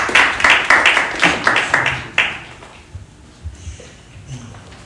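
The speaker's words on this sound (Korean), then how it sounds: "박수로 모시겠습니다." Audience applause in a Korean church service as a guest is welcomed to the stage: loud, dense clapping for about two seconds that quickly fades, followed by a few scattered claps and quiet room noise.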